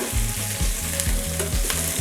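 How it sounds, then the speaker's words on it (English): Chicken sizzles and spits steadily as it browns in hot oil, a close, continuous frying crackle with faint scraping stirs underneath. "Now you're going to lightly brown the chicken on both sides."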